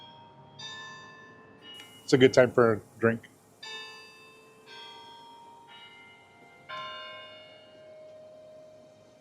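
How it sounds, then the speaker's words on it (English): A church bell in New Braunfels, Texas, rings in the afternoon with repeated, fairly distant strikes that ring out and fade across several seconds, while a person speaks briefly between the tolls. "let's listen to this bell because I'm sure that's drowning me out."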